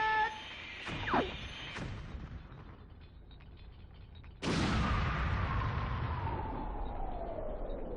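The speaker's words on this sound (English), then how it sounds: "There's so many explosions." Explosions in the Star Fox 64 video game, with a couple of quick bursts and synth tones early, then a sudden loud blast that rolls into a sustained, gradually fading roar.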